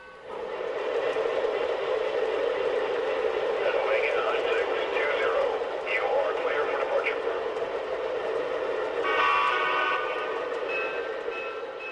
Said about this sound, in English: We also ran the L2A Mohawk.